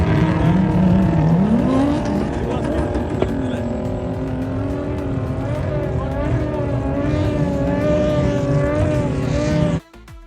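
Off-road vehicles climbing a sand dune and making U-turns at the Liwa Festival, engines droning and revving steadily nearby with rising and falling pitch, then cutting off abruptly near the end.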